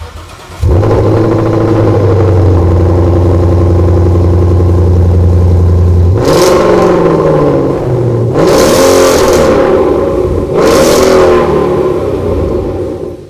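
Ford Mustang GT (2015-2017 fastback) fitted with a Gibson 3-inch stainless cat-back exhaust, starting up to a deep steady idle and then rising in several loud revs, heard close with no talking.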